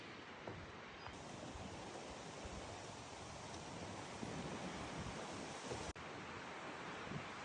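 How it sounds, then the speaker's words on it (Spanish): A steady, broadband rush of falling water from a waterfall in Mureung Valley, Korea, continuous and close with some wind buffeting on the microphone and no talking. "me encuentro con la cascada que estuve mirando antes"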